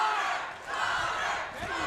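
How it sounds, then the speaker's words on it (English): A crowd at a Shamrock FC MMA fight cheers and roars, a loud, sustained wash of voices that dips briefly and then swells again. "Man, the crowd loving Shepard right now."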